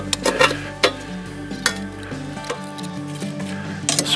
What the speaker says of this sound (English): I'm going to go ahead and start moving some of these coals up to the top.